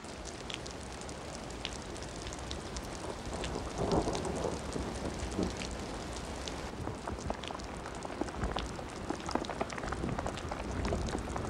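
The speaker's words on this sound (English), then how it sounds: "in spite of violent afternoon thunderstorms." A prairie thunderstorm brings steady, dense rain with low rumbling thunder that swells and fades throughout, heard at a moderate distance with no voices.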